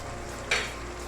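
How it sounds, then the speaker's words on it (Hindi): A brief sizzling burst rises and fades as butter hits hot chicken karahi in the pan, close by over a quiet steady frying hiss. "इसमें तकरीबन 2 टेबल स्पून के करीब मैं मक्खन डाल दूँगी"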